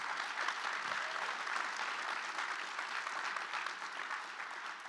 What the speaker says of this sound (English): How about a round of applause for our panelists here?